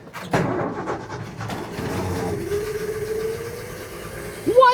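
A 1967 Ford F-100 inline-six, long unused, catches with a brief burst, settles into a rough steady idle, then fades out as it stalls, with a short squeal at the end.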